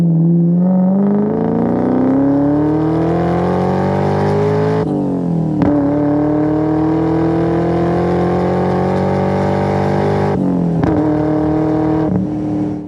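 A 2003 Ford Mach 1 with a Procharged 4.6 V8 and five-speed manual pulls hard on a test drive, its loud close engine tone climbing steadily through two gears, with brief dips at each shift.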